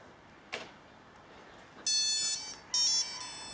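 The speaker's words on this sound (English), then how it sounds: "we've heard the second set of beeps to show that it's been programmed" Electronic speed controllers on a scratch-built Squirrel 360 quadcopter emit two bursts of high, steady calibration beeps after a single click, loud and tonal against a quiet room hiss.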